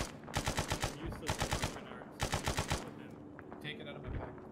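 Automatic gunfire from a military shooter game, loud and close, coming in two rapid bursts of regular shots with a short gap between them, then softer scattered shots and a few brief voices.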